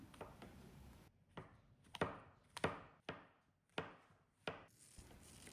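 A knife slices washed mushrooms on a cutting board in sharp, evenly spaced strokes, about eight cuts at a steady pace with quiet pauses between.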